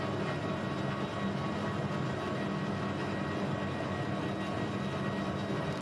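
Boeing 737 jet engines at takeoff thrust during the takeoff roll out of Auckland, a dense, steady broadband roar heard from inside the aircraft with no break, fairly even loudness throughout.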